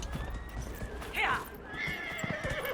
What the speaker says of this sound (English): Got ourselves a horse.